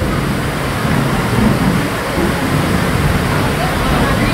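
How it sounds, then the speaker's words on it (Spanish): Rain comes down hard outdoors, a loud, dense hiss with an even, unbroken texture throughout and no distinct drops standing out. "Nosotros teníamos lluvia, lluvia tenemos."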